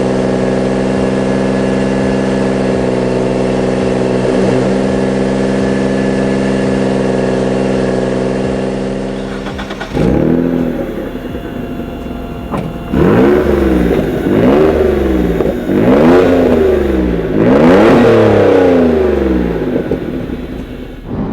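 Twin-turbo Mitsubishi 3000GT from the 1990s, unmodified, idling steadily close by, then pulling away with repeated loud rising revs and gear changes as it drives.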